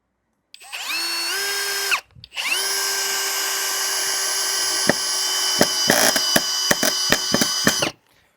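A DEVETECH CIS 120 cordless drill-driver drives a screw into wood, its motor whining steadily up to speed, pausing briefly, then running again before a rapid series of loud clutch clicks and a sudden stop, close and loud.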